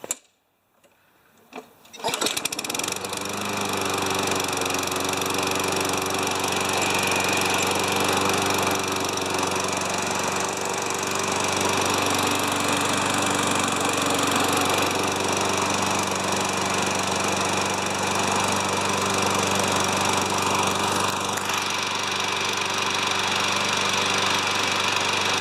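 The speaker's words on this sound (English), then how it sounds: "So that's a beautiful lawnmower" A Toro Recycler lawn mower engine sputters into life after a quiet moment, then runs at a steady, loud, droning idle for over twenty seconds with no talk.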